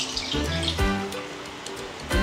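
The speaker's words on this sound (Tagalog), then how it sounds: "Lagyan na natin ng tubig." Water pours steadily into a cooking pot, a loud, close, continuous splashing gush that changes pitch as the pot fills, with brief surges between pours.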